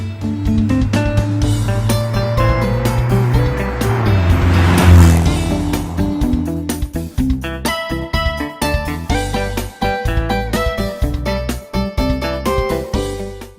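A toy rescue car drives with a loud revving engine that swells to a peak, then continues through bursts of acceleration, tire squeals and rattling clicks.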